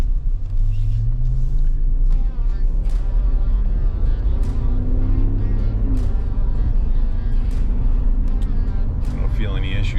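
A 2012 Jeep Grand Cherokee with a 5.7 V8 drives along with a constant loud low engine rumble and road noise, rising and falling slightly, while a person talks over it throughout.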